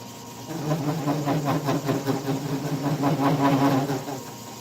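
A long socket being bored out on a lathe gives off a buzzing, pulsing machining chatter that holds steady for several seconds at moderate loudness, with no talk.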